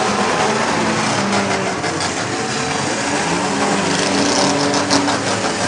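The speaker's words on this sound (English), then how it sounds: "I love hearing the rev limiters." Demolition derby car engines at a fairground arena in Morris, New York, loud and continuous, with rough revving that keeps hitting the rev limiter amid a dense, noisy crowd-filled background.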